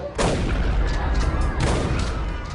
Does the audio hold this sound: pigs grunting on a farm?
no